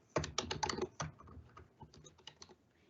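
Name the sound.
typing a web address on a computer keyboard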